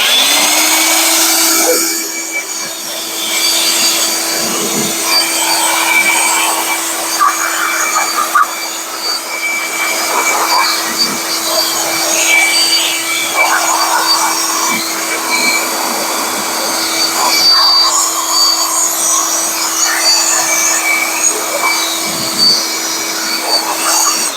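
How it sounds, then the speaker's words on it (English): A compact Ridgid cordless hand blower gives a steady, loud continuous whine as it clears debris from a 2012 Jeep Liberty 3.7L engine bay during spark plug and coil work, with a small rise in pitch at the start and no talk. "so I'm gonna take my little blow gun over here and just blow that all out before we continue"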